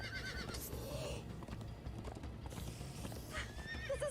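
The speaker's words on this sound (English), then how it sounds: "Come on, horses! Whatever you do, don't look back." Horses gallop with steady, rapid clip-clop hoofbeats and repeated whinnies in Minecraft Story Mode, the running hooves continuous and close throughout, with neighs breaking out near the start and end.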